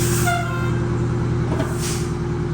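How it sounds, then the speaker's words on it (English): Hard air brake application on a bus under inspection, a loud steady hiss of releasing air over a low idling engine drone, close and continuous throughout. "Jack on the brakes hard."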